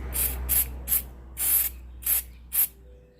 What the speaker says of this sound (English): So this activator just hardens the CA glue, aka super glue, instantly.